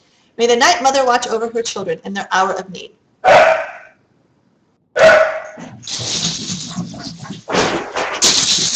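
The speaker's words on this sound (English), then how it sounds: "That's my dog." A pet Corgi barks several times in quick bursts indoors, loud and close, interleaved with a person talking over it.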